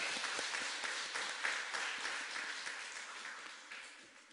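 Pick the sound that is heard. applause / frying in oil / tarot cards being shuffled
applause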